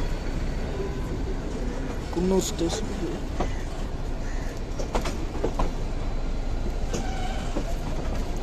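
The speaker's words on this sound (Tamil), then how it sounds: "ட்ரெயின் ரிவர்ஸில் போகுது," The Ooty toy train on the Nilgiri mountain railway rumbles steadily while moving in reverse toward Coonoor station, with a constant low rolling noise and occasional clicks under a passenger's voice.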